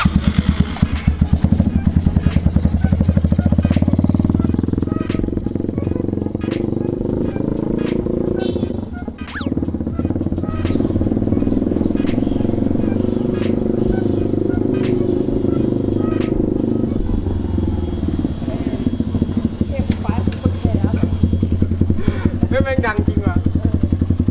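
Carburetted motorcycle engine, about thirty years old, running and being blipped with steady revving throughout, loud and close, with people talking over it.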